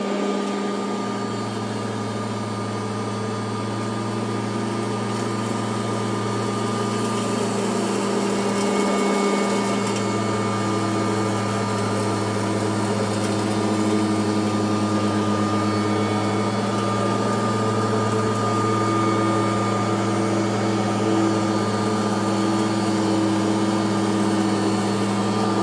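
A Kirby Heritage vacuum cleaner runs at a steady, loud drone that holds unbroken for the whole stretch, with only a brief dip in pitch partway through.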